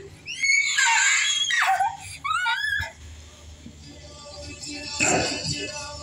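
Several loud, shrill human screams burst out in quick succession at a deliverance healing prayer service, with a later cry under the babble of a crowd and other voices.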